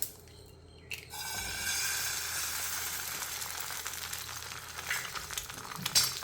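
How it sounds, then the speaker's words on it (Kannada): An egg is cracked into a little hot oil in a pan, a brief crack and drop followed by a swelling, steady sizzle that carries on at moderate volume with a few small pops and clicks near the end. "ಈಗ ಪ್ಯಾನ್ಗೆ ಸ್ವಲ್ಪ ಎಣ್ಣೆ ಹಾಕ್ಕೊಳ್ಳೋಣ. ಸ್ವಲ್ಪ ಎಣ್ಣೆ ಹಾಕ್ಕೊಂಡು ನೋಡಿ, ಮೊಟ್ಟೆ ಇದೆಯಲ್ಲ, ಮೊಟ್ಟೆ ಹೊಡೆದು ಹಾಕೋಣ"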